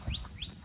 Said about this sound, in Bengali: ছোট ছোট পাখির কিচিমিচি কিচিমিচি শব্দ।